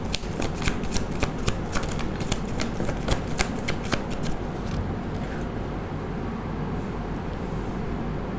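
Tarot cards being shuffled close up in quick repeated riffles, steady crisp flutters for several seconds that stop about halfway, leaving a steady low background rumble.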